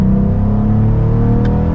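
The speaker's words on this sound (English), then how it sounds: "There's thunder behind with that exhaust. It sounds really good." A 2022 Cadillac CT4-V Blackwing's exhaust rumbles deep and steady under acceleration in V mode, a continuous loud low drone with no talking over it.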